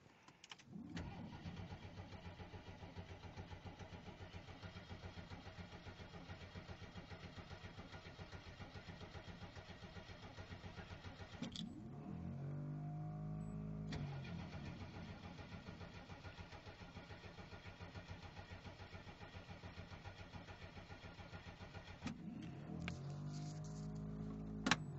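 A Jeep Wagoneer engine cranking without catching, the starter churning rhythmically for about ten seconds, pausing, then cranking again at length, each attempt ending with a brief flare, recorded close and without talk.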